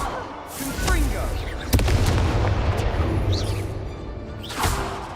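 A Confringo fire spell blast from the Hogwarts Legacy video game: a sharp burst at about two seconds followed by sustained rumbling booms, with another swell near the end, set amid loud battle noise.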